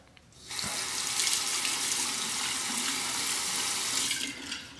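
Tap water runs steadily into a sink to rinse a straight razor, a close, constant rushing splash starting after a short quiet moment and easing off at the end.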